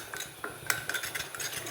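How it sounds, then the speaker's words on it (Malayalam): A spoon clinks and scrapes rapidly against a bowl while eggs are mixed with curry leaves and a pinch of salt, giving a quick run of close metallic taps with no voices. "ഒന്ന് ഇളക്കി"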